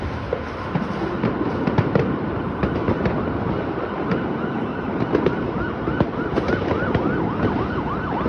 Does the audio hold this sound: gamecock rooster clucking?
no